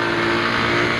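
A Beker B2 CR3 125cc motorcycle engine revs in a steady, loud, dense drone that holds unbroken for about a second, with no voices.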